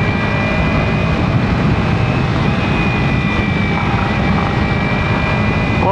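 A 2025 Kawasaki Ninja 300 parallel-twin engine drones loudly and steadily while riding, with a sustained tonal whine over heavy wind rumble, close and unbroken throughout.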